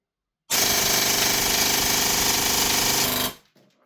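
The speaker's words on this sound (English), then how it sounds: "We're going to do a full mag of auto and see how it feeds." A GATE PTX HPA airsoft pistol fires a full magazine on full auto as a loud, rapid, machine-like rattle of shots lasting about three seconds, then stops abruptly with a faint clatter after.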